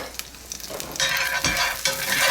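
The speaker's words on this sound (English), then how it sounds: "Just want to saute this down." Garlic sautéing in a pan over medium-high heat: a steady bright sizzle that rises in loudness partway through, with soft stirring scrapes and utensil touches, heard close up and alone.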